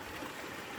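Water pours steadily from three stone village water spouts in a Himalayan Gurung eco village near Pokhara, a soft continuous splashing rush heard at moderate distance with no break.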